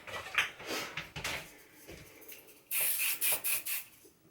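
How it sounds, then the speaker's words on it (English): Short bursts of hairspray misted onto hair, about five or six quick hissing sprays in a row near the end, preceded by softer handling and rustling noises. "hairspray"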